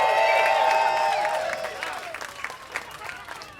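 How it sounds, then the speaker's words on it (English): A concert audience at the Basement East, a Nashville music venue, applauds and cheers loudly; whoops ring over dense clapping that gradually thins and fades toward the end. "since you cheered that loudly"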